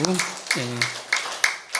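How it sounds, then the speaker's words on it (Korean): A congregation at a Won Buddhist Sunday service claps in a short, rhythmic run of close, crisp claps, following a brief burst of a spoken voice at the start. "자, 우리 모두에게 다 한번 박수. 네. 감사한 박수"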